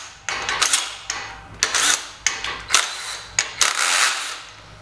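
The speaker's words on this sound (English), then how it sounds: "the way to loosen these fingers you loosen up these half-inch bolts" Half-inch bolts being loosened on a press brake finger kit, with a series of sharp metallic clanks and ratcheting bursts in irregular clusters, close and fairly loud, no talking.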